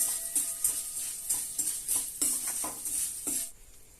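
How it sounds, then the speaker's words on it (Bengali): Ladle stirring fried chosi, small handmade wheat dumplings, in a kadai for payesh: close, rhythmic scraping strokes of metal on the pan, repeating about every half second. "এবার এই হাতাটা দিয়ে এটাকে নেড়ে নেবো।"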